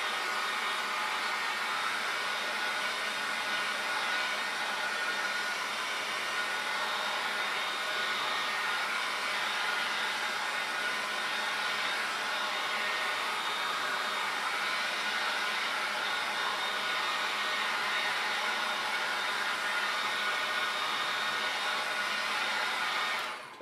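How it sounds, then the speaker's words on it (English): Hair dryer blowing over paper coated with clear gesso, a steady whirring hum at moderate level that runs unbroken before cutting off at the end, no talking. "And then I'm going to take my hair dryer again."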